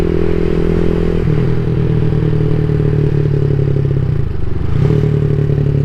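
A CSC SG250 motorcycle fitted with a MotoCult Stage 4 exhaust, a loud, close, throbbing low rumble with steady firing pulses and a brief dip and blip of throttle near the end.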